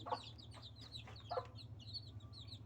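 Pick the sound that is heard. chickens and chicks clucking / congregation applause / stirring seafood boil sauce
chickens and chicks clucking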